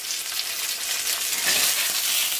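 Poha and potato dough balls sizzle and crackle steadily in a hot oil tempering, a bright continuous frying hiss with a brief swell midway, close up and without talk.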